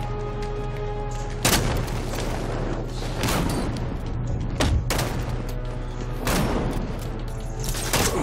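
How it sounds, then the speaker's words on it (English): Shotgun blasts in Batman: Arkham Knight, several loud sharp booms at irregular intervals over a constant low rumble and mechanical hum, with no talking. "Freaking shotguns!"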